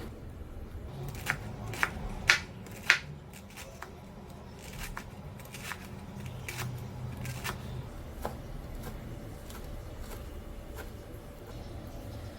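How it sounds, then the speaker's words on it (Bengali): A knife chops rolled-up red amaranth leaves finely on a board, giving a run of quick, light, crisp cuts at close range. A few louder strikes land early, then steadier soft chopping follows with no talking. "এভাবে মুড়িয়ে ধরে খুব ভালো করে কুচিয়ে নিতে হবে"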